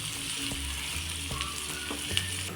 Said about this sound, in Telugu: ఉల్లిపాయలు, అలాగే పచ్చిమిర్చి ముక్కలు చిన్నగా కట్ చేసినవి, అలాగే కరివేపాకు, వీటిని అన్నిటిని కూడా ఫ్రై చేసుకుంటున్నాను